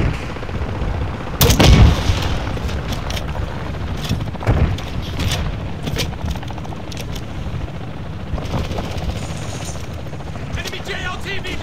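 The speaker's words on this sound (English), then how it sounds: "You are taking effective fire." Gunfire in Call of Duty DMZ player-versus-player combat, with a loud close burst early on and scattered shots and impacts over a rumbling vehicle-like drone, plus faint game radio chatter.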